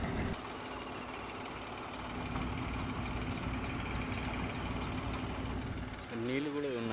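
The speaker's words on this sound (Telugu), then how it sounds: "నీళ్ళు కూడా ఉన్నాయి చూడండి, అసలు మోటార్తో తోడేస్తున్నారు." A motor pump drones steadily while it draws water out of a rain-soaked construction pit. The hum is continuous and mid-loud, and a voice is heard briefly near the end.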